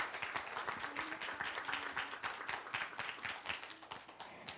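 Audience applause closing a traditional Korean music and poetry performance at a book festival, steady scattered clapping at moderate distance, fairly faint, with a faint voice briefly underneath.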